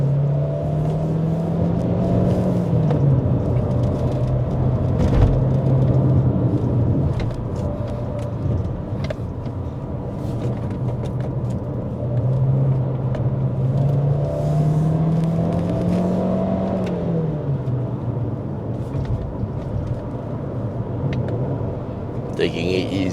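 A Chery Tiggo Cross climbs a winding mountain road on Genting, its engine droning steadily and rising and falling in pitch as it is held in third and then second gear. Road rumble runs underneath throughout, with a person talking over it.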